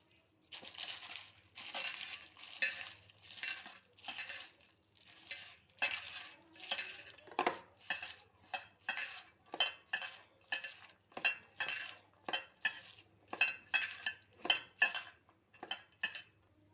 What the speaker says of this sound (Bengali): এগুলো আমি এখন ভালো করে লবণ দিয়ে ডলে নেবো